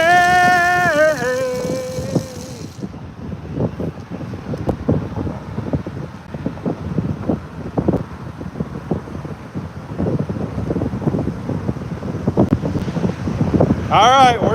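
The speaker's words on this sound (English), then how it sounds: "What a windy day." Gusty wind buffets the microphone in a steady, rough roar while sturgeon fishing from a boat on the Columbia River, with faint water and boat noise beneath; a brief tonal chirp opens and closes the stretch.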